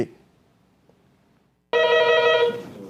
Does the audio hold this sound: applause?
no